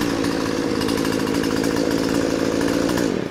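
A Husqvarna chainsaw running loud and close, a steady buzzing high idle that holds evenly before cutting off abruptly at the end.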